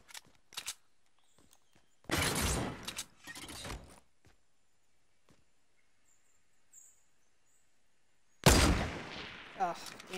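Gunfire in Fortnite Battle Royale during a solo match: a few sharp, loud shots in separate bursts, some close together and one heavy shot near the end, with quiet gaps between them.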